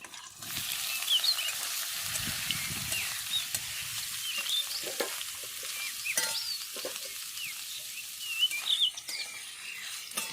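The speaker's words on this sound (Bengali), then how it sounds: "তেলটা আমার গরম হয়ে গেছে এরপর আগে থেকে জল ঝরিয়ে রাখা ইঁচড়টা দিয়ে দেবো" Drained pieces of green jackfruit fry in hot vegetable oil, a steady hissing sizzle with crackles that lasts the whole time, while faint bird chirps come from the background.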